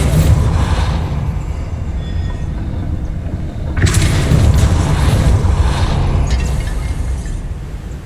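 A Bombarda spell blast in the Hogwarts Legacy video game goes off midway as a sudden deep rumbling boom that rises over the steady game ambience and then lingers.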